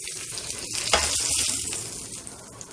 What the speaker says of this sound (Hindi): अंडों को मैं अच्छे से फ्राई कर लूँ।